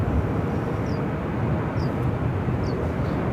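An airliner roars down the runway on takeoff at Phoenix Sky Harbor airport, a loud, steady broadband jet rumble with faint chirps of birds over it.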